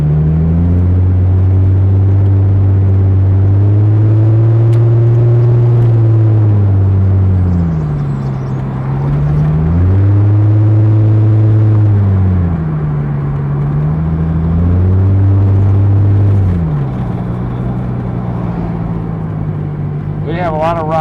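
A 2001 Chrysler Prowler drives along a road and accelerates, its engine note rising and falling through several gear shifts in a steady, loud rumble, with brief quieter stretches between pulls.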